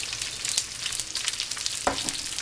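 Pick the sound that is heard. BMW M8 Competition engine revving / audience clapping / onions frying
onions frying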